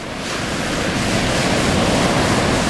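Ocean surf breaking on an Outer Banks beach in a southwest wind, a loud, continuous wash of waves with wind rumbling across the microphone, no talk.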